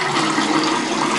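Strong stream of water runs from a bathroom tap into a draining sink, a steady loud broadband rush with no talk.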